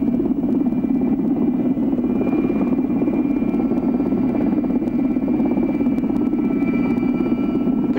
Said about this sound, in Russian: Вертолет совершил вынужденную посадку в тайге.